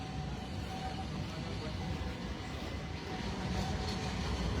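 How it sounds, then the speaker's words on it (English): A tram rumbles past on an early-morning Istanbul street, a steady broad low roar and rolling drone that holds throughout at moderate distance, with no speech over it. "Here comes that tram."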